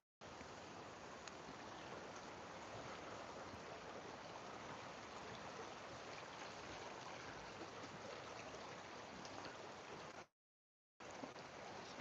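A burn, a Scottish stream, flows through rugged landscape as a steady, dense rush of water, even and unbroken apart from a brief dropout near the end.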